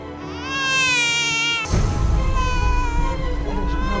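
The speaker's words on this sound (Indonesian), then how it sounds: "Aduh, suara bayi." A baby wails in a drawn-out cry, then a louder rumbling noise cuts in and continues beneath the crying.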